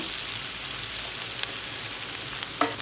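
Chopped onions fry in oil in a pan for jowar upma, giving a steady close sizzle with a few faint stirring clicks and no talk.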